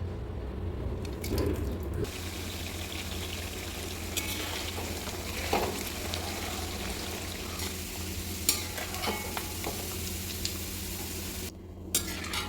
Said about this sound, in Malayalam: ഈ അരിഞ്ഞു വെച്ച ഇഞ്ചിയെ ചൂടായ എണ്ണയിലിട്ട് നന്നായിട്ട് മൊരിച്ച് കോരാം